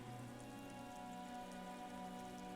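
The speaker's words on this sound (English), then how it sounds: "Rain falls onto the roof of a woodshed." Steady, even rain drums on the roof of a woodshed, a dense, constant hiss and patter with no voices.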